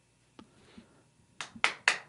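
A few sharp claps ring out alone in a quiet room, one early, then three quick ones in a cluster near the end.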